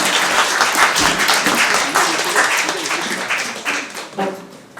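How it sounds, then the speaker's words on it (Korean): Dense, steady applause from an audience at a memorial book concert held at a Jesuit center, continuing loud and close for about five seconds before starting to thin out at the end. "박수로 맞이해 주십시오."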